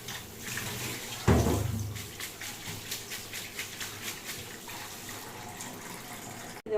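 Tap water runs into a sink while small fish are washed by hand, a steady splashing stream with a sudden louder gush partway through and soft handling noises, no talk.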